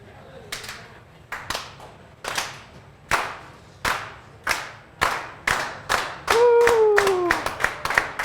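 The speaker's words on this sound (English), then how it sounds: "slow clap" Kitchen staff at a food service event give a slow clap, about a dozen sharp claps spaced evenly, speeding up toward the end, with a voice calling out briefly under the last claps.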